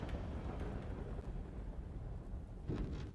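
A deep, rumbling explosion roar sustained throughout, with a sharper burst swelling near the end.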